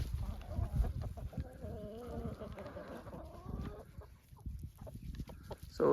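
Chickens cluck and murmur close by, a busy flock sound with scattered soft calls over a low background of footsteps and rustling.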